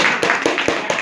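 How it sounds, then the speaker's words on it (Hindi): Audience at an MLM business meeting applauding a speaker, with rhythmic clapping in a steady pattern, close and fairly loud for about a second. "एक बार लाल सिंह जी के लिए जबरदस्त ताली हो जाए"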